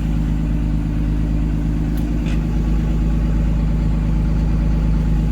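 A school bus engine idles steadily with the door open and red warning lights on, a continuous low rumble close by with no speech.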